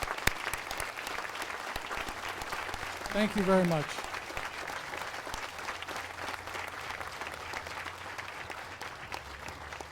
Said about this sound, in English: please join me in a round of applause for our veterans in the audience today